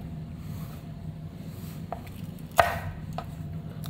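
A knife cuts a chili pepper into long strips on a board, producing a few separate chopping knocks, one of them noticeably sharper and louder, against a quiet background.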